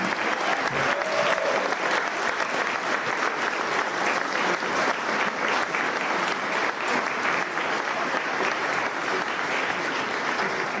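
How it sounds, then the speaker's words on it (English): An audience at an investment summit applauds the President of the United States, steady dense clapping that fills the room at full strength throughout, with no pauses. "Please, a round of applause for the President of the United States of America."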